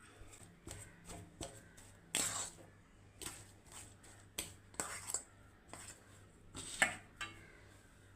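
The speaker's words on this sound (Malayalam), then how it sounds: "മധുരക്കിഴങ്ങ് നല്ല വൃത്തി ഉടച്ചെടുത്തിട്ടുണ്ട്" Boiled sweet potato is mashed by hand in a bowl, giving faint, soft, irregular squishes and taps with small utensil clicks against a quiet room.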